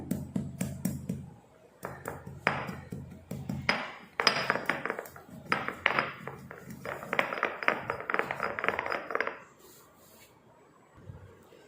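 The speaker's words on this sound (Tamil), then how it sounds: "இதை முதல்ல நம்ம நல்லா தட்டி எடுத்துக்கிடுவோம்" A small piece of turmeric is pounded in a kitchen, a run of sharp clinking taps in uneven bursts, close and fairly quiet, ending in a softer pause.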